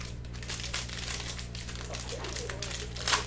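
A cellophane-wrapped cello pack of 2019-20 Panini Mosaic basketball cards is torn open close up, with a continuous busy crinkling of plastic wrapper over a low steady hum and a sharper rustle near the end.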